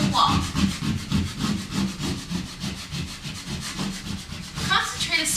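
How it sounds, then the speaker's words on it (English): A burnishing tool rubs vinyl letters firmly against a wall in a steady run of close, scratchy back-and-forth strokes, continuous and fairly loud, with no talking. "Now use your burnishing tool to push each letter into the wall."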